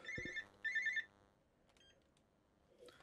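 A telephone rings in two short, bright bursts close together, followed by quieter clicks and faint background noise.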